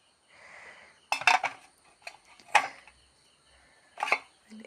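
A spoon mixes chopped dill leaves, onion and green chili in a bowl for a soft dill-leaf dosa, giving a few sharp close clinks and scrapes in separate bursts with quiet pauses between.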